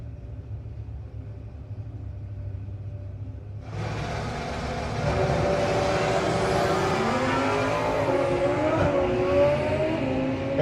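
Drag race cars, one an Oldsmobile, rumble at idle before a loud launch, then the engines roar and climb in pitch as they accelerate away on the strip.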